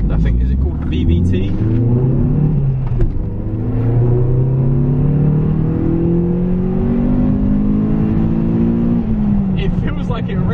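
Renault Clio 197 naturally aspirated engine revving, rising and falling engine tones sweeping up steadily over several seconds, heard close and fairly loud beneath ongoing talk.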